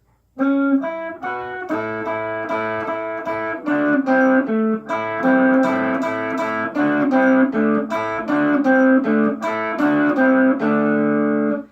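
An electric guitar plays a bright, driving rock-and-roll riff, repeated double-stop bends and chugging notes, steady and loud, with no voices.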